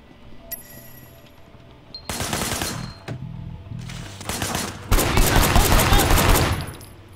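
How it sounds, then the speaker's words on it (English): Video-game gunfire in Sleeping Dogs, a shooter firing from a car's passenger window: bursts of rapid automatic shots over engine and driving noise, growing louder and denser toward the end, with a game soundtrack underneath. "There was a shooter, firing shots from the passenger window."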